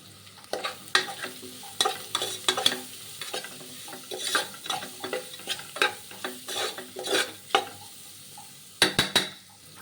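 Rice frying with salt and turmeric is stirred in a pan for pulao, with repeated scraping strokes of a spoon against metal over a steady low sizzle. Near and clear, no talk, and a quick burst of clatter comes near the end.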